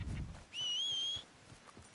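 A clear rising-then-level whistle, held for under a second, calls a horse in the Red Dead video game, standing out alone over quiet ambient game background.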